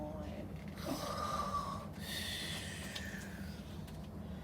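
A storyteller imitating a sleeping bear's snore during a children's winter storytime, a single drawn-out, breathy rasping snore followed by a softer exhale, close and moderately quiet.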